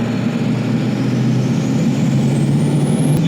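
A modified Ford F350 pickup with new motor work idles in a loud, steady low rumble that holds evenly throughout, with no talking.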